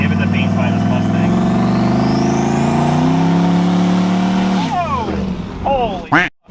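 A turbocharged Chevrolet Tahoe roars hard under acceleration past a Mustang, a loud rising engine drone that fades after about four seconds, followed by excited voices.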